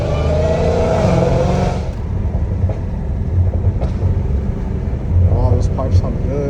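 A Dodge Hellcat Redeye engine rumbles through its exhaust pipes, revving in low throaty surges with traffic noise around and voices speaking over it, in Los Angeles.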